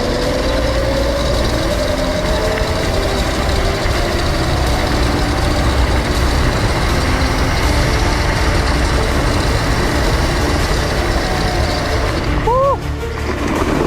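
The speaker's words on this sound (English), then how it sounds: "Going full throttle down this time." An old, rusty vehicle runs at full throttle, its engine a loud, steady low drone with rising pitch that fills the whole stretch, briefly dipping near the end.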